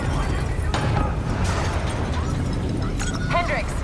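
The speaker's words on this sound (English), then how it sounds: "we have multiple explosions across the facility" Deep rumbling booms and bursts roll through a dense noisy Call of Duty: Black Ops III background, with voices speaking over the blasts.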